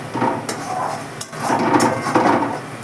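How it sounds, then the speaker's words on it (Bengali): Food is sautéed and stirred in a pan, with a steady close sizzle and a few sharp clatters of a utensil against the metal, and no talking. "ভালো করে কষিয়ে নিই"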